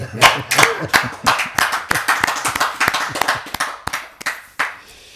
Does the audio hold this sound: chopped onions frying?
no